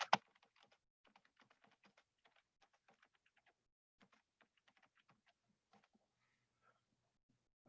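Quiet, close typing on a computer keyboard: a fast, uneven run of light key clicks that thins out toward the end, with no talking.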